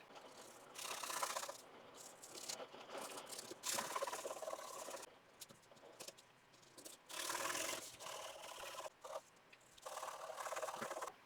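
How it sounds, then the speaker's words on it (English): Distress Crayon in Scorched Timber being rubbed over raised textured paste, a series of scratchy rasping strokes in bursts of one to two seconds with short pauses, close but quiet, with no talk. "On the raised areas I will rub on some Distress Crayon Scorched Timber."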